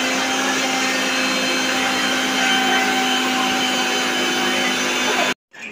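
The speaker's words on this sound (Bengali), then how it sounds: "মিক্সি করছে এখন। আদা রসুনের পেস্ট, তাই তো?" An electric kitchen mixer grinder blending ginger and garlic into paste runs as a loud, steady whirring drone close up, cutting off abruptly just before the end.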